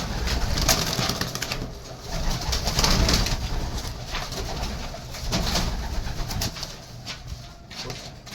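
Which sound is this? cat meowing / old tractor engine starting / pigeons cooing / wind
pigeons cooing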